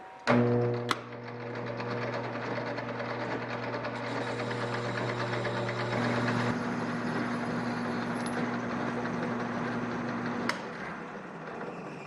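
A metal lathe turns down a large square piece of metal stock for an experimental airplane's landing gear strut, giving a steady, close mechanical whir with sustained tonal hum and constant cutting noise throughout.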